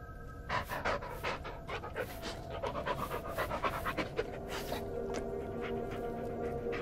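A dog pants in the Blair Witch video game, quick rhythmic breaths close by and fairly soft, continuing steadily for several seconds over a quiet background hum.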